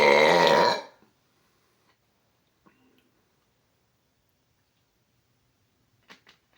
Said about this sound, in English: I wish there wasn't a cutoff at the end of that one, because that was a pretty cool burp.